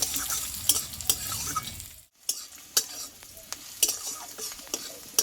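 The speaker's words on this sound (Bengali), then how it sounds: "পেঁয়াজটা কিন্তু আমার এখানে ভালোভাবে ভাজা হয়ে গেছে" Onion frying in a pan with a steady sizzle, broken by repeated sharp scrapes and taps of a spoon stirring, close and fairly loud, with a brief quiet pause midway and no voices.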